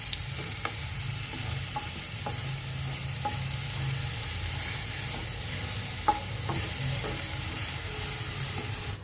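Onion and garlic cooking in a pan over a medium gas flame for green pav bhaji, a steady low sizzle with occasional soft clicks of stirring, moderately loud and without speech.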